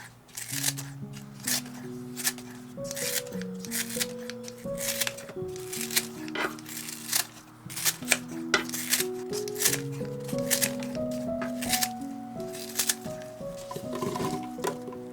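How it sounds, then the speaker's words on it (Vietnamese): Pandan leaves being cut into small pieces on a kitchen surface: repeated crisp chopping and snipping strokes in an uneven rhythm, close and clear, with soft background music throughout. "Đầu tiên mình đi rửa sạch và cắt nhỏ lá dứa này"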